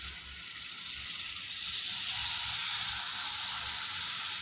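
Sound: marinated tandoori chicken sizzling in hot oil

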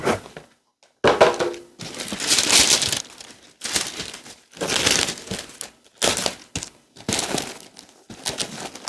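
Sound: unwrapping Hermès bag packaging, crinkling

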